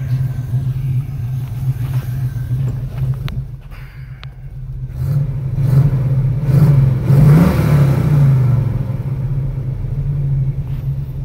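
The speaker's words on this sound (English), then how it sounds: "Well, it runs and drives, which is kind of cool, but this motor is junk." A project car with a worn-out motor runs and drives, its engine rumbling steadily, then revving up louder mid-way before settling back, heard close with no voices.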